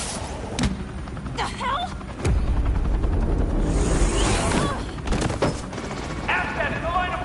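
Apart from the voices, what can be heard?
gunfire in the video game Batman The Telltale Series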